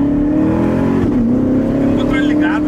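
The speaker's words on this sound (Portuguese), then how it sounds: "Tem um motor ligado, né?" Race car engine idling and revving at a track beside a Corvette and Porsche challenge, a steady loud drone throughout with people talking over it.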